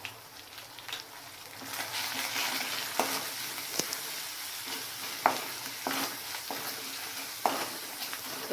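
Spice paste with turmeric and salt frying in a pan, continuous sizzle with periodic stirring scrapes and spoon knocks, close up, no voices.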